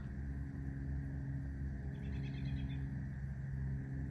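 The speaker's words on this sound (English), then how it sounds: "There's like a plane off in the distance" A low, steady distant rumble like a far-off airplane, with faint bird chirps partway through.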